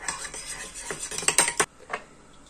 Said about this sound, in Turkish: 2 yemek kaşığı dolusu dolu yoğurdumuzu bir güzel çırpalım